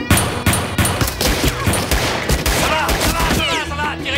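Rapid bursts of gunfire crack in a dense, loud volley, with shouting voices breaking through the shots in a dramatic scene.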